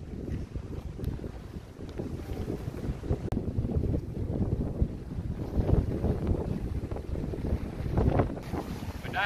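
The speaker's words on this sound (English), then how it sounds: "A little bit windy." Steady wind gusts buffet the microphone beside a deep Scottish loch while camping off-grid, a dense, rushing roar that swells and eases with no voices.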